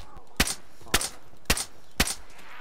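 Gunfire in the video game DayZ: four sharp, evenly spaced shots ring out about half a second apart, loud and close over a faint background.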